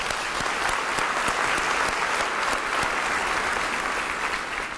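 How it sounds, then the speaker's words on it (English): An audience at a school district State of the District event applauds steadily, dense clapping at a constant level with a few sharper claps standing out, lasting throughout. "Let's give her a round of applause."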